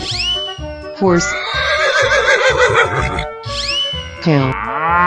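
A horse in a cartoonish 3D animal video game gives loud, close whinnies, with one long, wavering neigh followed by a second shorter one, over lively background game sounds.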